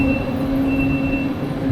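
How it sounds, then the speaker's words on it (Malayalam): Steady low rumble and hum of a train standing at Berchtesgaden station in the German Alps, with a constant engine drone and a faint high whine running throughout, close and continuous. "നമ്മൾ ഈ ട്രെയിനിലാണ് വന്നത്."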